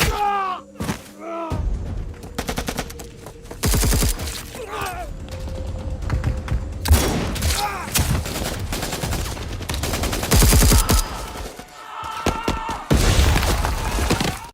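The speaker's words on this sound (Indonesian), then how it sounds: "para pasukan pemberontak melakukan serangan mendadak hingga aksi baku tembak pun gak bisa dihindarkan" Rapid bursts of gunfire trade back and forth in a staged firefight between soldiers and rebels, with loud shots and machine-gun volleys crowding the scene and dropping only in brief gaps.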